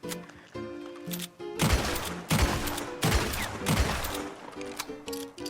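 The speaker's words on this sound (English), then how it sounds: "here's the typical shot rhythm for dual-wielding volcanic pistols" Two Volcanic pistols fired together in Red Dead Online, sharp loud cracks arriving in a steady rhythm of roughly one shot every 0.7 seconds, with quieter ambient tones between shots.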